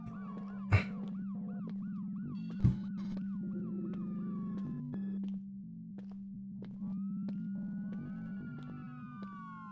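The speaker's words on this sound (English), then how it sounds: "ambulance." In a video game, an ambulance siren wails in repeated rising-and-falling sweeps over a steady electronic hum, interrupted by two sharp thuds early on, then continuing in a fainter, slower wail.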